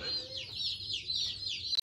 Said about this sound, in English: But we'll get in here and get these chickens put in the brooder.